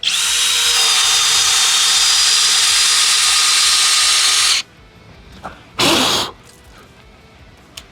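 A FLEX hammer drill on speed 1 with turbo mode off bores with a 1-inch two-flute, two-cutter self-feeding auger bit: a loud, steady high whine for about four and a half seconds, then silence and one short final burst.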